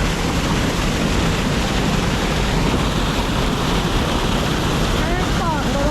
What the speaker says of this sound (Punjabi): ਪਾਣੀ ਆਉਂਦਾ ਜੀ ਇੱਥੇ ਜਿਹੜੀ ਪਟਿਆਲੇ ਵਾਲੀ ਭਾਗੜਾ ਉਹਦਾ ਪਾਣੀ ਆ ਰਿਹਾ ਹੈ